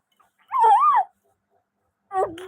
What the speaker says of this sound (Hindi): कुत्ते कुत्ते